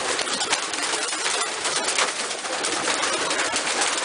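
Pigeons inside a loft on a breezy day, their cooing blending into a dense, steady rustling wash that fills the space, close and constant with no speech.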